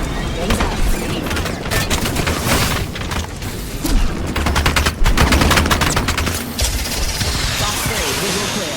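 Rapid automatic gunfire in the battle royale game Apex Legends, loud and close, in dense repeated bursts with booming impacts across the whole stretch, and a player's voice talking underneath.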